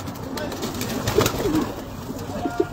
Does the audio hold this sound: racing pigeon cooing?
yes